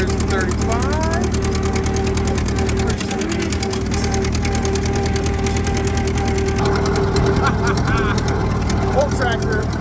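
Old tractor engine running steadily in a yard, a loud continuous mechanical drone with rattling, present throughout while voices speak over it.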